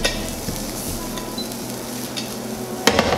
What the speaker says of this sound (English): All right, our spam is cooking up nicely.